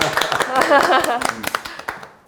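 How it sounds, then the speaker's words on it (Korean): A few people clap during a Korean-language online children's lesson about the Korean War. A voice talks at first, then scattered, uneven claps taper off into quiet. "우리 박수 한번 쳐드릴까요?"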